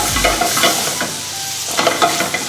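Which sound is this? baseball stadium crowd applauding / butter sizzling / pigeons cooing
butter sizzling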